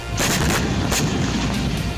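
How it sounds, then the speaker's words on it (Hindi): Howitzer artillery fire aimed at Russian troops in Sumy during the Russia-Ukraine war: heavy, loud booming blasts and rumbling reports that follow one another over a dense, continuous roar. "सूमी में रूसी सैनिकों पर होवित्जर तोप से हमला किया गया।"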